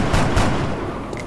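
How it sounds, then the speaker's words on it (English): Reaction-shot gunfire from an overwatching soldier in XCOM: Long War: a couple of loud, sharp game gunshot bursts in quick succession up front, then a sustained noisy tail with a faint high whine near the end. "There's one reaction shot."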